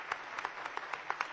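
Audience applause greets Congressman Ron Paul at the National Right to Life Convention, a brief burst of crowd clapping with regular peaks and no talking.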